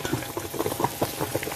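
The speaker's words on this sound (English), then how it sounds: "wax is now boiling away on the stove" Beeswax rendering in a large saucepan on a stove bubbles and pops continuously, a close, busy cluster of small bursts throughout.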